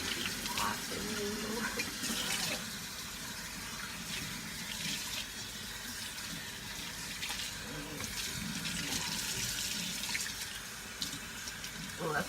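Tap water runs steadily into a sink while conditioner is rinsed out of a girl's hair, a continuous close gush with splashing variations and a voice talking faintly underneath.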